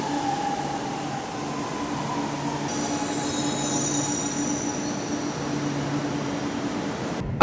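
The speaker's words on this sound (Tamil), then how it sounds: "ஈக்காட்டுத்தாங்கலுக்கு அடுத்ததா இப்போ ட்ரெயின் வந்து நிற்கிறது ஆலந்தூர் மெட்ரோ" Chennai metro train pulling into Alandur station, with a sustained wheel squeal and rail hum heard from inside the carriage, then a hiss and brief clunk as it comes to a stop.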